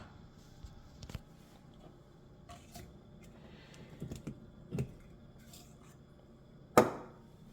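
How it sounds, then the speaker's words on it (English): Coffee grounds being tamped into the portafilter for a Ninja Luxe Café Premier ES601UK espresso machine, with soft handling knocks and taps, a few muffled thuds, and one sharp, louder press-and-knock near the end in a quiet kitchen. "We'll give it a tamp."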